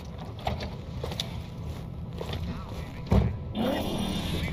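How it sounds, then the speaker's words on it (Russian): Idling car engine in Cyberpunk 2077, a steady low rumble that continues throughout with a few clicks and a heavier thump near the end, while game characters talk over it. "Двигатель глушить не буду."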